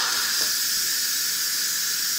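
A pressure cooker vent releasing its steam gives a loud, continuous, steady hiss, close up and unbroken, with no voices.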